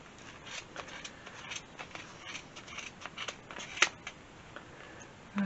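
Scissors snip around the edge of a yarn pompom, a run of quick, soft, close cuts.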